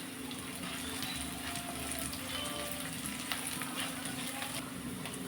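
Cumin and pepper fry in oil in a pan for a dry fish curry, giving a steady, close sizzle with a faint low hum underneath and no talk.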